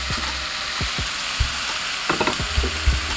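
Pork belly with bone dry-fries in a pan without oil, a steady close sizzle and crackle with occasional stirring scrapes and pops.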